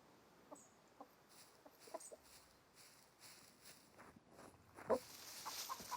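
Chicken clucking in the survival game Scum: soft, scattered clucks come at irregular intervals over faint ambient game noise, and one sharper squawk near the end.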